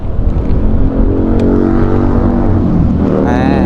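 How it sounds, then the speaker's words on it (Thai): A brand-new 2021 Triumph Trident 660 engine with a full carbon exhaust system runs loudly up close, its deep exhaust rumbling steadily with slight shifts in pitch as it revs. "เดี๋ยวมาฟังเสียงเครื่องยนต์กันดีกว่านะครับ"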